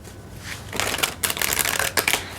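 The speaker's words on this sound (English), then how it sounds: "One more shuffle" Oracle cards are shuffled by hand in several quick riffling bursts, close up, with papery flutters and short pauses between them, and no talking.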